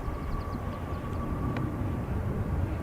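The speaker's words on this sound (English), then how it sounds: "Emirates just landed." An Emirates airliner lands at Dublin Airport, its engine roar a steady, fairly distant broadband rumble that holds evenly throughout, with no talking.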